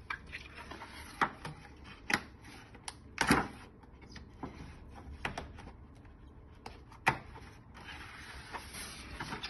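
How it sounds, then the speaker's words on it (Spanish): Plastic headband tabs snap into the slots of a polycarbonate face shield, giving a series of sharp, close clicks spread irregularly over a quiet room background. "Tenemos que escuchar un clic."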